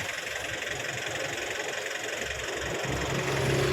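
An engine idles steadily nearby, a continuous low rumble with a slight rise in loudness toward the end, no voices.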